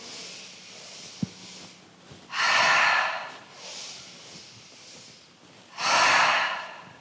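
A slow, gentle demonstration breath during a calming flow: a soft nasal inhale followed by a longer, breathy exhale through the mouth, repeated twice, close and clear with quiet pauses in between.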